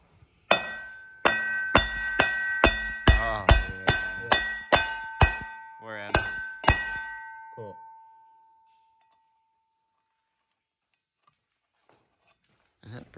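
A series of sharp ringing metallic strikes from hammering on a BMW car part, about a dozen in steady rhythm, each leaving a bright lingering tone, then silence.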